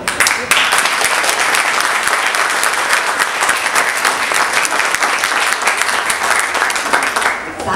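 An audience at an aviation event opening at Graz airport claps loudly and continuously for several seconds, a dense sustained applause that tapers off near the end.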